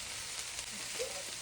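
Onions and green chillies fry quietly in a pan, a faint, steady sizzle over a short moment with a soft clink near the end.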